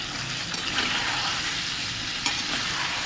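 Spice paste and cleaned drumstick (moringa) sticks being sautéed in a pan, a dense, steady close sizzle with continuous stirring and one brief sharp tap.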